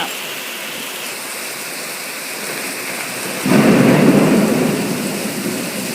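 Heavy tropical rainstorm in Thailand, with a steady hiss of downpour building into a sudden loud burst of thunder that rumbles on as the rain keeps pouring.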